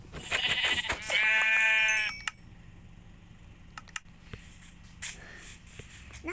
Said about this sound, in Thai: ผมขอฆ่าแกะสีนี้ก่อนนะครับ